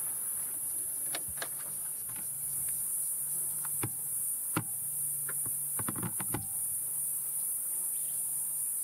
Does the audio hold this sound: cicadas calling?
yes